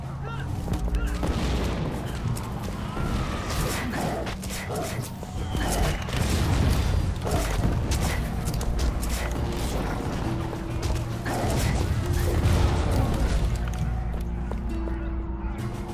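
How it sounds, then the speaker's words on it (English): Grand Mortars fire in the action video game The Incredible Adventures of Van Helsing II, a dense run of heavy booms, crashes and mechanical clatter over game music, loud and continuous throughout. "They're using the Grand Mortars!"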